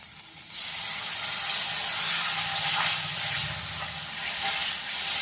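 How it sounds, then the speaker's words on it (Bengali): Water poured into hot fried spice paste for a pomfret fish curry sets off a sudden loud hiss after a quiet moment, then a sustained steamy sizzle that rises and falls slightly, with no talking. "মশলাটা ভালো করে কষানো হয়ে গেছে, এইবার আমি দিয়ে দেবো জল।"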